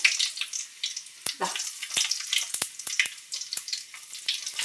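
Dried red chillies hit hot oil already popping with mustard seeds, giving a steady close hiss of sizzling broken by sharp crackles and pops at irregular moments.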